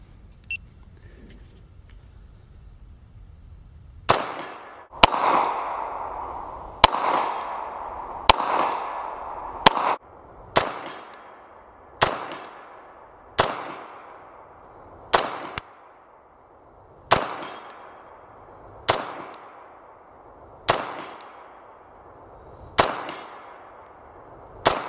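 Handgun shots from an FN FNS 9 pistol fired at a silhouette target, about a dozen sharp loud reports in a steady rhythm, each with a decaying ring, preceded by a few seconds of quiet outdoor background.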